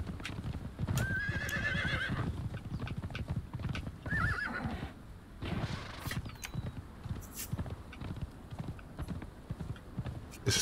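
Pony hooves clip-clopping at a gallop with repeated whinnies and neighs in the video game Conan Exiles, fairly loud and continuous across the scene.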